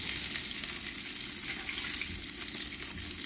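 Hot oil sizzles and crackles steadily in a frying pan with chicken and onions, a dense close hiss with occasional small pops and no voices.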